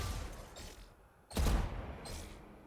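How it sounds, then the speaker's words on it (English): Gunfire in a first-person shooter video game, a loud burst of shot sounds near the middle over a dense steady background of game noise. "I'll just heckin' shoot the bullet at the end of my strafe and trust the movement."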